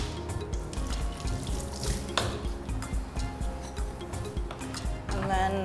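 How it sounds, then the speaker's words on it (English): Water runs steadily from a tap for hand washing in a kitchen while cooking a traditional African pot dish, a continuous splashing flow with people talking over it. "kindly wash your hands."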